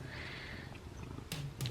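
A cat purrs softly up close in a steady, rumbling low vibration, quiet and continuous, with a couple of faint soft rustles near the end.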